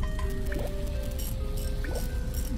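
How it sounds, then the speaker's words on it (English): Water flowing from a pipe in The Little Acre game gives a steady gurgling, trickling stream with occasional drips, heard close and continuous over a low background hum, with no talk. "Nice, a lot of water is gonna flow now."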